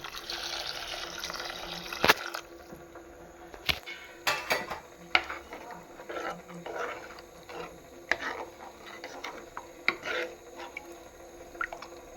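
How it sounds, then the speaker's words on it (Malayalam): Water poured into a pot of village-style pearl spot fish curry: an uneven splashing pour with drips and a few knocks against the pot, close and fairly quiet. "ഇനി നമുക്ക് ഇതിനകത്തേക്ക് ആവശ്യത്തിന് വെള്ളം ആഡ് ചെയ്ത് കൊടുക്കാം"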